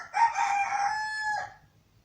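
In Ambon, eastern Indonesia, a rooster lets out one full crow, rising sharply and holding a bright, wavering note before trailing off, close by and unaccompanied by voices.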